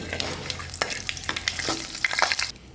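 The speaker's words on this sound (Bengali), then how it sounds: "এই গরম তেলেতে ওই গোটা মশলাগুলো আমি দিয়ে নেবো যেগুলো আপনাদের সাথে আগে আমি শেয়ার করেছিলাম হালকা নাড়িয়ে নেব" Whole spices sizzle in hot oil and are stirred lightly, a close, steady frying hiss broken by soft utensil scrapes and taps, ending abruptly as the sound drops away.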